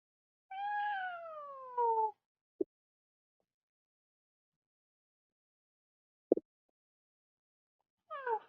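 A cat meows alone in a quiet room, two drawn-out falling cries followed by a couple of sharp knocks and the start of another meow, fairly close and clear.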